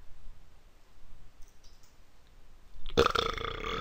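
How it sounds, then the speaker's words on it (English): A short, loud burp erupts near the end after quiet computer keyboard typing and mouse clicks in an indoor setting. "that was a nice burp"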